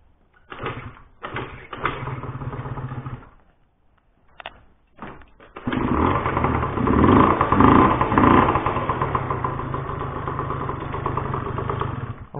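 Ride Race 50 GT 50cc scooter engine sputtering in short bursts, going quiet, then starting and running with revving and a steady idle, loud and close with no talk.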